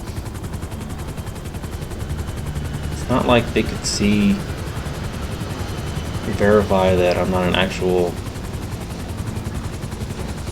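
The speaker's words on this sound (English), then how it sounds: "I'm flying an ambulance helicopter" Ambulance helicopter flying in GTA V, a steady rotor drone running throughout beneath gunfire-like bursts, with someone talking over it.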